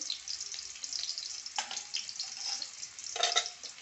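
Chopped onion with a little salt frying in a pan, a bright continuous sizzle and hiss with soft stirring scrapes, close and fairly loud throughout.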